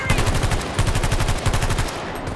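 Rapid automatic gunfire in bursts, aimed at an oncoming zombie horde in a video game, loud and close, with short pauses between volleys and no speech.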